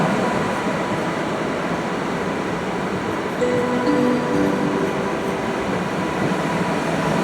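Steady, loud rumble of a Koleje Małopolskie passenger train at Kraków Główny station, with a constant roar and faint mechanical whine, no voices, continuous throughout.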